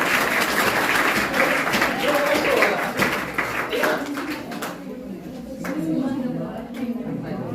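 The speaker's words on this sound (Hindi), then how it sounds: "सलमान खान के लिए ताली बजा दो यार, ताली हो जाए" A classroom of students claps loudly and raggedly for a student, the applause thinning out partway through, with a few scattered claps and faint voices trailing behind it.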